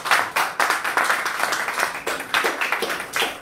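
Audience applause in a live hall, a dense, steady burst of many hands clapping close by, rising and falling in irregular swells for a few seconds with no voices over it.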